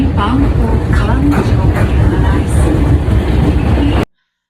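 A train rides along rails, a loud close rumbling with rhythmic clatter and rattling throughout, ending abruptly in silence.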